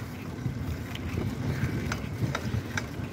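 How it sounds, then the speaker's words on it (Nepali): Cold wind blows across the microphone on a road trip toward the Karnali river, a continuous rough rumbling gust noise with a few faint higher chirps, steady and fairly quiet. "चिसो हावा आइरहेछ."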